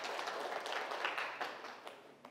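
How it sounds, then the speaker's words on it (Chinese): A lecture-hall audience applauds a student's correct answer at a Chinese economics and technology talk, giving a steady wash of clapping of moderate loudness that tapers off after about two seconds. "好吧，这个给大家掌声。"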